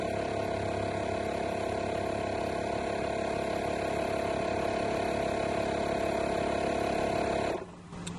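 A ZFOX 50 PSI smart inflating pump for paddle boards and tires runs with a loud, steady motor whine and rattle, then cuts off abruptly near the end, leaving quiet room tone.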